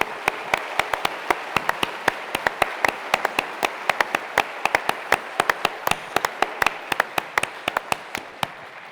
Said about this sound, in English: Please join me in a loud round of applause.